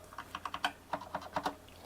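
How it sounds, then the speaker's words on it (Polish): Quick, uneven keystrokes clatter on a Bloody B740A mechanical keyboard, a short burst of clicky taps with a brief pause partway through. "Jest to klawiatura mechaniczna"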